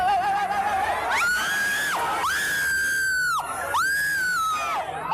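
Loud, high-pitched screams of residents and firefighters at a fire scene rise and fall in several long wails, overlapping and sustained, with a crowd-like din underneath.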